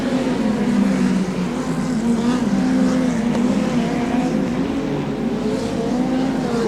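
Midget speedcars racing in a 50-lap A-main at Archerfield, a steady droning engine roar from several cars held at high revs throughout, with a constant buzzing tone and no clear pauses.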